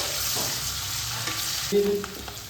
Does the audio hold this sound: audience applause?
no